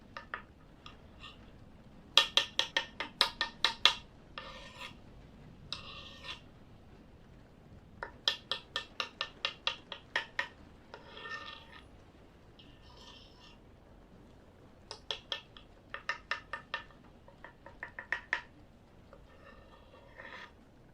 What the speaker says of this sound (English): Just chopping up the meat really quickly before I bake it.